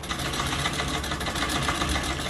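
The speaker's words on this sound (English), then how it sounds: "It's a Singer sewing machine." A Singer sewing machine, bought in 1939, runs continuously and fast for the whole stretch, a close, even mechanical whirr and rattle with no talking.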